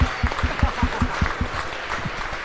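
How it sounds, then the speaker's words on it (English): A crowd applauds for the male division overall podium at the Australian Ninja Open, a steady, rhythmic run of clapping with a strong regular beat, moderately loud over a hum of background noise. "another round of applause for our overall podium in the male division"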